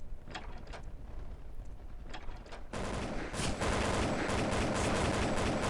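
Rapid AK-47 fire in Counter-Strike: Condition Zero Deleted Scenes, a few short bursts followed by a loud continuous barrage, close and harsh.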